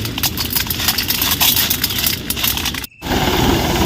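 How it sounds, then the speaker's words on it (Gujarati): A tractor engine runs on a village farm in Botad, a loud continuous rumble with rattling pulses that dips briefly near the end. "હાલો ડાયરો હવે જો ટ્રેક્ટર હાલે છે"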